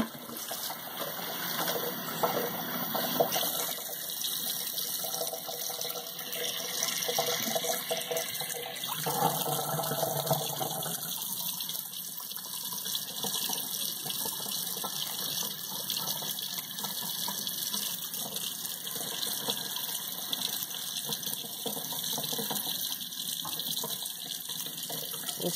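Cold tap water runs steadily over brine shrimp eggs being rinsed, a continuous close hiss and splash of flowing water from a faucet with slight shifts in tone as the stream is moved.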